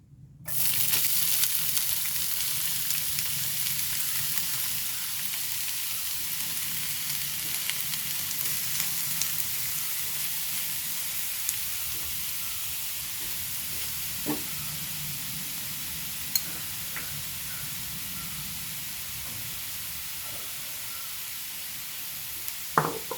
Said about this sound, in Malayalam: ഒരു രണ്ട് ടേബിൾ സ്പൂണ് വെളിച്ചെണ്ണ ഒഴിച്ചു കൊടുത്തിരുന്നത് നമ്മൾ ചോപ്പ് ചെയ്തെടുത്ത് വെച്ചാൽ വലിയ ഉള്ളി ഇട്ട് കൊടുക്കാം